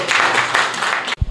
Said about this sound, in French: Applaudissez donc pour vous.